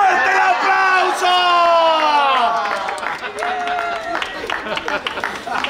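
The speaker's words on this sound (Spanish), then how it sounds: "¡Fuerte el aplauso!" Audience applause and cheering for a volunteer at a magic show during the Santa Ana festival in Tudela, a loud sustained burst of clapping and whoops that tapers slightly toward the end.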